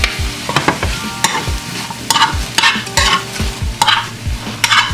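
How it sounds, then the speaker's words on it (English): Vegan cheesesteak filling being stirred and mixed in a sizzling sauté pan, with a steady hiss of frying broken by repeated scraping strokes of a utensil against the pan, close and fairly loud, no talking. "Now you can also add this to the saute and just mix everything all together."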